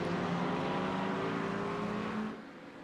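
Aston Martin and McLaren GT3 cars exit the pits during a GT Sprint race, their engines a loud, steady roar that drops off near the end, with no talk over it.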